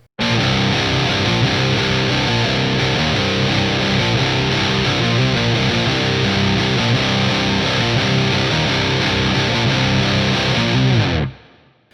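Distorted electric guitar strums chords that ring out continuously for about eleven seconds, full and sustained, before stopping suddenly.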